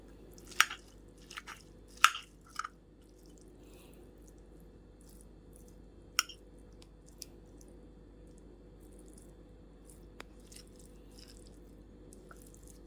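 Pad thai eaten at home as an evening meal gives a few soft, moist squishy chews near the start, then mostly quiet with only faint isolated clicks.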